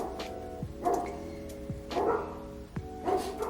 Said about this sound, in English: Sorry for the barks, guys. I have my own dogs and the neighbor's dogs.